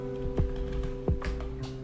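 Keys tapped on a computer keyboard while a message is typed, with two distinct clicks over a steady electrical hum, close and fairly quiet.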